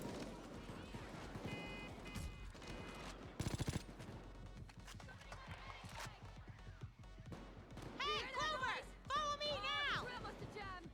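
Gunfire in the video game Payday 2: rapid bursts of shots crackle under someone talking, with a short dense volley in the middle and game effects and chatter toward the end.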